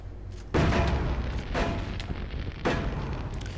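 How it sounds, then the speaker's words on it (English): Several heavy booming explosions in the video game Fighting Force 2, one at the start and another near the end, each followed by a long rumbling tail of debris and echo. "Explosions do look pretty nice"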